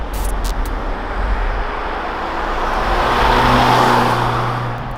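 2021 Volvo V90 Cross Country B5 AWD at high speed, a steady broadband rush of road and wind noise with an underlying low engine drone that swells gradually, heard from inside the car without talking.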